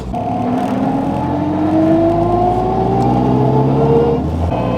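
An all-wheel-drive Honda Civic Type R FK8 on the road, a loud steady engine drone with gradually rising pitch as it accelerates through gears, heard from inside the car without talking.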